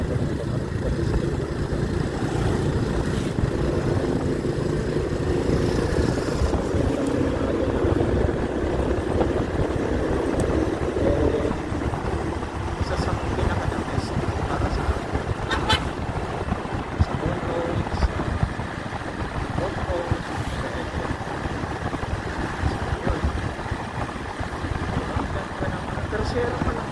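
A Honda XRM125 Fi motorcycle engine drones steadily while riding, mixed with constant wind buffeting against the microphone, and a rider's voice talks over it.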